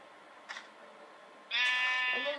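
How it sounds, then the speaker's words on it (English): Sheep bleating in the video game Minecraft, one clear wavering bleat in the second half with a short faint sound just before it, over a quiet background. "And there's a random sheep."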